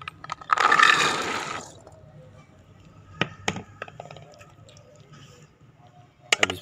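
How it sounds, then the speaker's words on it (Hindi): Chickpeas are poured into a cooking pot in one brief, rattling rush. Scattered light clicks and taps follow as they settle. "बर्तन में सबसे पहले चने डालें।"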